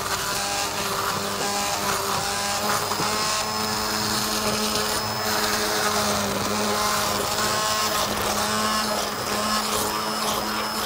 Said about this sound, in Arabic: نعمله عندنا هاند بلندر، هنعمله بالطريقة دي